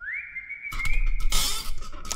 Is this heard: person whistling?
yes